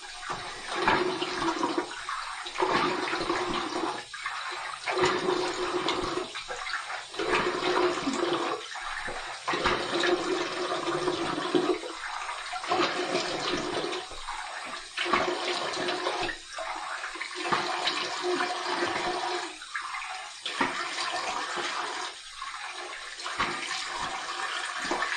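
Water runs steadily from a tap in a bathroom to rinse off pre-shave before shaving with bay rum soap, a continuous close hiss with brief dips and no talk.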